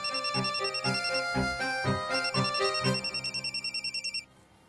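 A telephone rings in a home scene from a Marathi TV serial. A bright electronic ringtone trills in repeated bursts, loud and close, then a rapid pulsing stretch before it cuts off into quiet.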